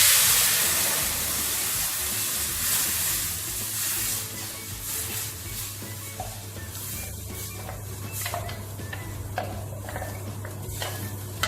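A ground mix with water boils in a pan for thavala adai with mustard, hing and curry leaves, giving a steady close bubbling sizzle and hiss with occasional small pops and clicks, continuous throughout with no talk.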